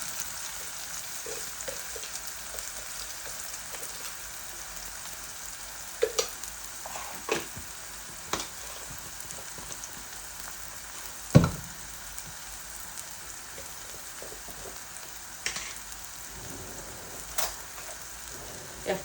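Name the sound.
eggs and lentils being fried (bhuna) in a pan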